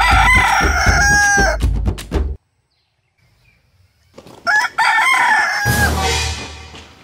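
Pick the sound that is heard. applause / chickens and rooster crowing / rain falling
chickens and rooster crowing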